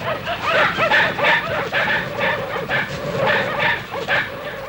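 Village dogs bark in pursuit, a pack of several voices yapping in quick repeated bursts, fairly close and continuous with no talk.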